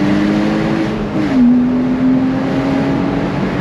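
A Porsche Boxster S 987 with a 3.4-litre engine and manual gearbox accelerates hard in second gear, its engine note droning steadily and rising slightly, heard loud from inside the cabin with wind and road noise.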